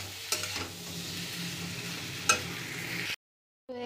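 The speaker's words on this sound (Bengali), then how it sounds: "সবজিগুলো দিয়ে ভালো করে কষিয়ে নেব" Vegetables sautéing in hot oil for a fish chorchori, a steady close sizzle with a couple of sharp stirring scrapes, then it cuts off briefly before resuming.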